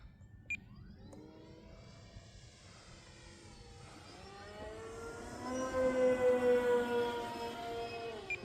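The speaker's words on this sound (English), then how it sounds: "And my battery's already beeping now because it's cold and I just full blasted it." Low-voltage alarm from the cold, hard-run battery of a C-160 Transall RC model plane, a thin steady high-pitched beep sitting over droning propeller noise that climbs louder toward the end.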